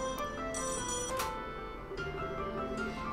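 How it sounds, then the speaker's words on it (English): Telephone rings in Trails in the Sky the 3rd, an electronic ringtone in repeated bright bursts over game background music, with no talking. "But then the phone rang."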